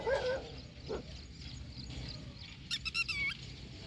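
A sandpiper and dogs clashing near eggs: sharp squeaky bird calls and shrill yips come in short bursts, with a quick cluster of high piercing cries near the end over quiet ambient noise.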